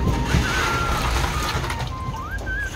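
Pond water sloshing and splashing steadily as it is poured out of a fish container and strained, a continuous close watery wash with no talk.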